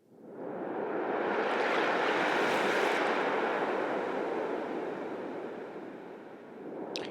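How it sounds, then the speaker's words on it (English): Ocean waves played as a sound sample swell up into a broad, loud wash of surf noise that holds steady for several seconds and then gradually fades. "So here's some ocean waves. Yeah, they're super loud."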